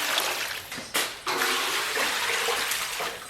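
Water running and splashing into a cooking pot that holds beef bones, a close, continuous rushing pour with one short break partway through.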